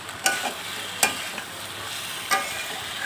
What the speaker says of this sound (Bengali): তারপরে আমি কলিজাটা দিয়ে কিছুক্ষণ নেড়েছে